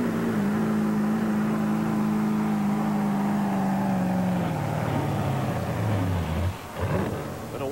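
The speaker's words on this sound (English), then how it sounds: "Watch this Garfield truck." The Garfield Express truck engine roars loud and steady during a truck pull at a 1987 USHRA Anaheim event, its pitch sliding gradually lower before cutting out abruptly near the end.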